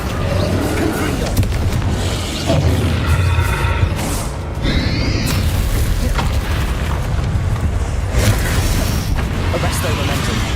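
Explosive Confringo spell blasts in the Hogwarts Legacy video game, loud booming bursts with crackling magical effects that recur throughout amid dense, continuous game combat sound.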